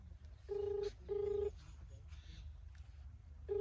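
A telephone call rings out unanswered, with repeated electronic ring tones in steady bursts and pauses between them over low background noise.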